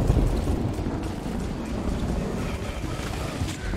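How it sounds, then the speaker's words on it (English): Rumbling thunder from the Overwatch video game, a sustained low roll with rain-like hiss throughout, steady and fairly loud with no voices. "Oh, thunder."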